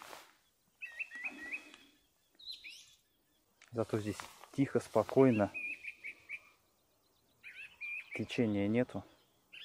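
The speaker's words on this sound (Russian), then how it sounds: "Птички поют." Small birds chirp and whistle in short bursts beside the Mungat River near Krapivino, at a calm fishing spot. The calls sound fairly close, and someone talks between and over them.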